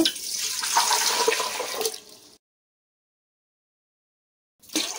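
Three cups of water are poured onto rice in a pot for prawn biryani: a continuous splashing gush lasting about two seconds, then silence, with a short splash returning at the very end.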